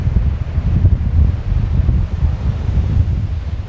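Strong wind buffets the microphone on a breezy beach on Caladesi Island, Florida, a loud low rumble that blends with the wash of surf and continues without a break.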